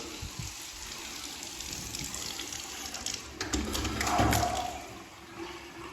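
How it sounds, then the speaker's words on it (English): Water gushes from several household taps being bled of air in an old French château, with a toilet flushing; steady rushing noise that swells louder toward the end, no talk. "we're running all the taps"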